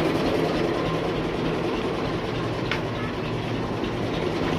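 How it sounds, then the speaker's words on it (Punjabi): A tractor-driven atta chakki flour mill runs in a Punjabi village: a steady, loud mechanical drone with a low rumble and a broadband grinding roar that holds unchanged throughout. "ਲਓ ਜੀ ਹੁਣ ਚੱਲਣਗੀ ਚੱਕੀ।"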